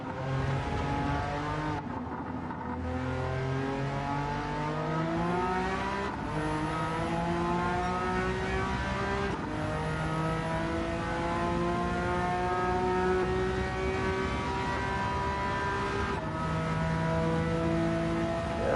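A Porsche race car in Gran Turismo 7 revs hard and steadily throughout, its engine note climbing and falling through repeated gear shifts, loud and continuous with no talk.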